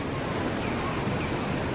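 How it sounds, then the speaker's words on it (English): Steady broadband wind rushes and buffets the microphone outdoors at a resort area in Hawaii, a constant close roar with no pauses. "So it's a little windy"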